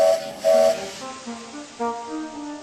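A model steam locomotive whistle sounds in short, breathy blasts with hissing steam, followed by softer wavering whistle tones.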